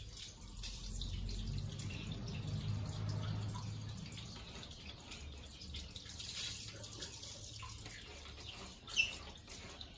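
Water trickles weakly into a water heater, a faint, thin and steady flow with a soft tap near the end.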